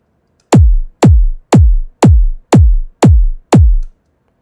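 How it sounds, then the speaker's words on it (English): Seven synthesized 808-style EDM kick drums built from an impulse through dispersion processing, each a punchy attack sliding into a deep booming tail, struck evenly about twice per second, loud and dry with no talk. "the basic pipeline is putting an impulse signal into a dispersion processor and resulting in a kick drum after some further processing and colorization"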